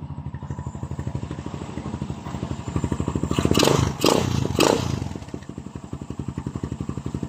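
A Barako motorcycle with a 304 stainless steel exhaust pipe idles with a rapid, loud, regular putter, revs up in a few bursts in the middle, then settles back to idle.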